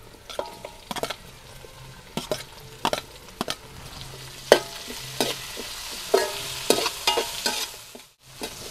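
Tomatoes frying with onions in a pan hiss steadily up close, broken by a dozen or so sharp spatula scrapes and knocks at an uneven stirring rhythm.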